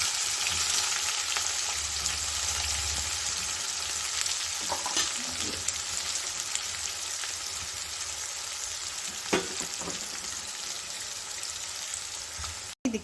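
Garlic and fennel seeds crushed together, curry leaves and onion frying in oil for an aloo palya, a steady broadband crackling sizzle running throughout with occasional stirring clinks, close and alone without speech.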